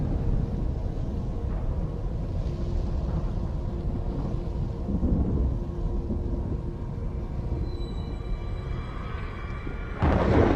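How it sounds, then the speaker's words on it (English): A Timefall storm in Death Stranding brings a steady low rumble of rain and distant thunder that holds for about ten seconds, then swells into a brighter, louder burst near the end. "That Timefall storm could not have come at a worse time."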